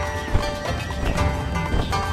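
A horse in a video game (Reverse: 1999) whinnies while hooves thud at a steady pace, fairly close and loud, with a continuous background hum underneath.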